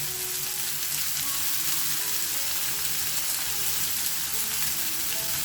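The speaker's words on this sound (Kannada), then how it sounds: "ಉದ್ದ ಉದ್ದ ಕಟ್ ಅಂತ ಈರುಳ್ಳಿ ಇದಕ್ಕೇನೆ ಕರಿಬೇವು ಕೂಡ ಹಾಕೊಳ್ಳೋಣ ನೋಡಿ ಈ ಥರ" Sliced onions and curry leaves frying in hot oil in a pan, giving a steady, dense sizzle that stays close and even throughout with no talking.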